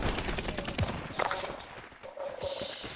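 Rifle gunfire in Call of Duty: Vanguard, rapid bursts of sharp shots and thuds in quick succession, fairly loud over the game's background noise, with no talk.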